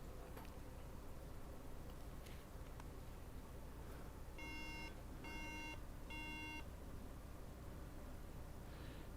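A small electronic beeper sounds three short, evenly spaced bleeps over a steady hiss of room noise, with no voices.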